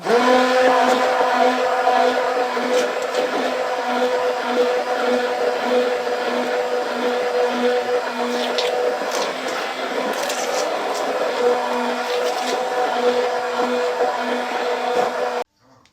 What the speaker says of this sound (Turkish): Evet arkadaşlar bakın güzelce bunu çırptık.